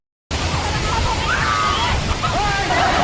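Rushing river water pours over the rocks at Wawa Dam, a steady loud broadband roar close by that fills the whole clip after a brief silent start, with faint voices mixed in.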